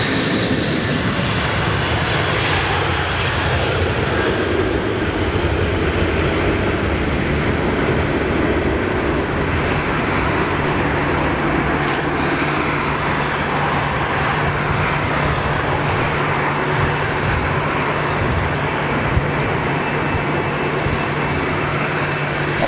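Airbus A330 airliner taking off, a loud continuous jet engine roar that stays steady and close throughout, with no talking over it.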